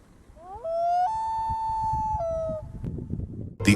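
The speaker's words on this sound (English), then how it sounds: "The haunting wail of the loon bird." A common loon wails once, a clear, rising then sustained mournful tone that breaks and fades, fairly distant and alone in quiet surroundings.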